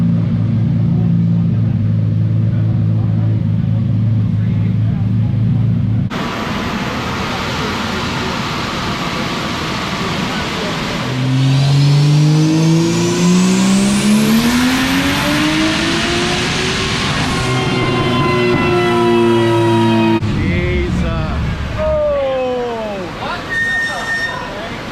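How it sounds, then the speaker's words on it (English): A BMW B58 fitted with a big single turbo is revved hard on a dyno, its engine note climbing in rising sweeps, easing off, then pulling up again, loud and close. "Let's get loaded up on the dyno now"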